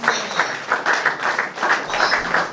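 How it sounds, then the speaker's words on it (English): A seminar audience rises for a standing ovation, and a crowd claps in a dense, continuous patter at fairly close range. "Let's rise on our feet and give a clap of ovation for that powerful seminar"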